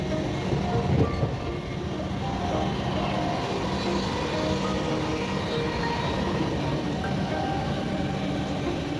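A train heard from on board while running: a continuous loud rumble of wheels and carriage, with a faint rhythmic rattle and a brief bump near the start, and no voices.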